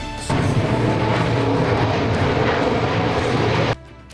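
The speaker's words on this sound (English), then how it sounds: "Pensacola's own Blue Angels jetting across the beach" A loud, roaring rumble of Blue Angels military jets flying over a beach in Pensacola passes continuously for several seconds, then cuts off abruptly, leaving quieter background noise.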